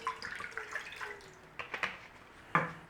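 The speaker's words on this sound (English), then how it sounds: "To our pan we want to be adding some water." Water poured into a cooking pan on a stovetop while making a beef and broccoli stir-fry, a few faint splashing and trickling bursts with a louder splash near the end, no talking.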